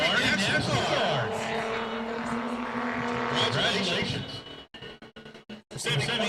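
A big rig race truck on a qualifying lap at an oval track roars loudly and steadily with a droning engine note and tire noise, then cuts out into choppy gaps before returning, under a commentator's voice.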